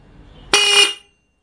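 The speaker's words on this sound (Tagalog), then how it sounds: "tutunog na ngayon yung ating busina kasi meron na siyang positive at negative" A double contact horn, freshly wired with positive and negative leads, blasts once for about half a second, loud and steady with a bright, buzzy tone, then cuts off into silence.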